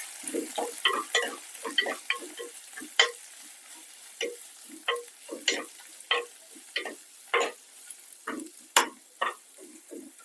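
Sliced onion, green chillies and curry leaves stirred as they fry in a pan for a Kerala okra stir-fry, with a steady close sizzle broken by frequent sharp scraping strokes of the spoon, alone without voices.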